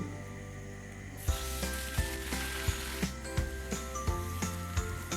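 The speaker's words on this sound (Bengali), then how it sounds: "পেঁয়াজটা ভালো করে ভেজে নেব" Chopped onion drops into hot oil with panch phoron and fries with a loud, steady sizzle. Stirring knocks and scrapes come at regular intervals.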